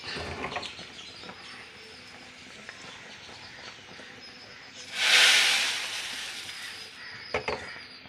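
A sudden loud sizzling hiss erupts as sardine fish curry is poured onto onions fried in hot oil, peaking sharply and then fading over a couple of seconds, with faint kitchen clatter around it.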